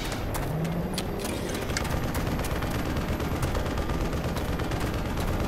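Gunshots in Black Mesa during Surface Tension, several sharp separate shots near the start and scattered reports later over a constant rumbling background.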